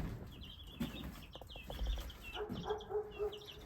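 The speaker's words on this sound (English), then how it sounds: "check on these baby chicks. I hear them." Baby chicks in an indoor brooder under a heat light, giving a scatter of thin, high peeping chirps near the listener, with a few soft clucks and some rustling.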